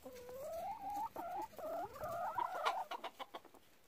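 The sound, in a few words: chicken clucking, a hen and rooster in the yard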